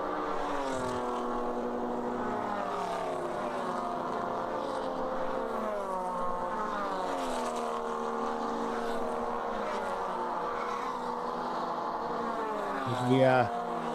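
Race cars, among them a Mazda Miata, drive through the S's at Watkins Glen during a ChampCar endurance race, with a steady engine drone whose pitch sweeps up and down as the cars climb. The sound is continuous and loud, with a brief burst near the end.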